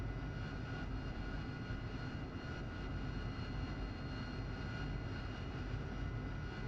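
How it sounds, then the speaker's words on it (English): A jet aircraft in a flight simulator game makes a vertical takeoff, its engine giving a dense, constant roar that holds at one level throughout with no change or break. "I'm going to try for a vertical takeoff"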